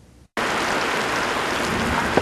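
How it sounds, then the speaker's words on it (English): A sudden heavy downpour outside an office in Brisbane, a dense, steady roar of rain that starts abruptly and continues loud and unbroken, with no talking. "A sudden downpour sends Tzu Chi volunteers rushing out of their Brisbane office."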